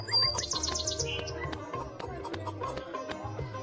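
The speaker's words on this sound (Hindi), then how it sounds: "कहीं कहीं चहचहाती चिड़ियां" Birds chirp and tweet in quick bright trills at the start of a cartoon street scene, followed by soft scattered cheeps over a background of light music and clicks.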